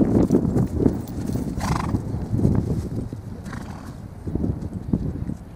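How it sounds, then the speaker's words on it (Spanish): A Quarter Horse galloping, hooves clip-clopping in a steady rolling rhythm at close to moderate distance, with a short whinny partway through and no talking over it. "Ahí está, vamos con el galope."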